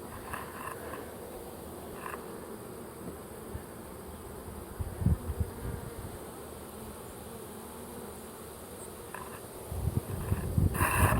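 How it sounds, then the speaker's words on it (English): Dense, steady buzzing of many bees swarming around an opened hive during honey frame collection, close and continuous, with occasional louder swells and handling bumps near the end. "Again, a lot of bees right here."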